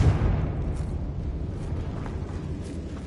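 Confringo blasting spell explosion in Hogwarts Legacy, a loud rumbling blast that opens strongly and fades into a sustained low roar with scattered crackles.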